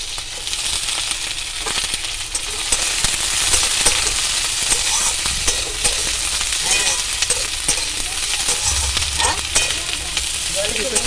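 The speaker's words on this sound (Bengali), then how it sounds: "পেঁয়াজ আর ক্যাপসিকামটা হালকা ভাজা হয়ে গেছে" Onion and capsicum fry in a hot pan for a chilli chicken dish, with steady loud sizzling and occasional scraping stirs running throughout, no voices.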